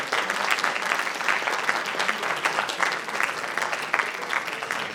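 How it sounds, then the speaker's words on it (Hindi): Theatre audience at a drama staging gives continuous applause during an honouring ceremony on stage, a dense, even patter of many hands clapping at moderate level with no talk over it. "तालियों में कमी नहीं रहनी चाहिए।"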